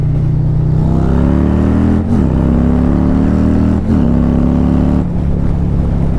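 Harley-Davidson motorcycle with a 131ci Stage 4 crate engine accelerating hard, its loud, close exhaust note climbing steadily in pitch and dropping briefly at each of several gear shifts, with no talking.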